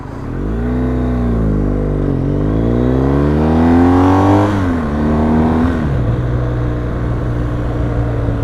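A car drives through close by, its engine note climbing and falling through gear changes, loud and steady, then settling into a lower drone as it passes.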